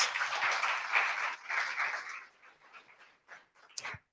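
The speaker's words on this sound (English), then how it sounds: "if you can give Keith a round of applause" An audience applauds a judge being introduced at a pitch competition, steady clapping that fades into a few scattered claps before stopping.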